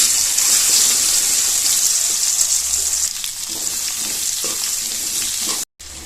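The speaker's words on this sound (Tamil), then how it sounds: "இப்போ இது கூடவே நம்ம கட் பண்ணி வச்ச மாங்காயும் சேர்த்து வதக்கிக்கலாம்." Cut raw mango being sautéed in a pan with mustard seeds and curry leaves for a mango pickle, giving a steady, close, dense sizzle that carries on throughout with no talking.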